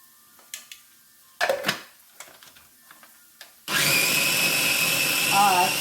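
Blender chopping a cilantro, tomato and water mixture for vegan achari tikka, a loud steady whirring motor that kicks in suddenly after a stretch of quieter kitchen clatter and brief talk, then holds at full volume to the end.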